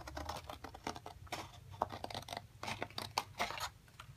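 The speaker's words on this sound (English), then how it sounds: "Cut out the pieces to your barn by cutting on the black dashed lines." Scissors cutting paper pieces for a 3D paper barn along dashed lines, a quick series of close, crisp snips and crunches with brief pauses between cuts.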